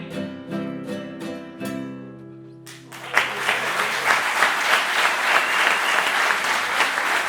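A sung piece ends on sustained notes, then an audience bursts into warm, even applause that continues steadily to the close.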